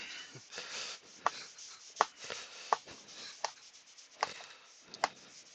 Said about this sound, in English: Look, I'm chopping carrots.